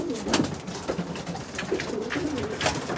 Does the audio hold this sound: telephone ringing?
no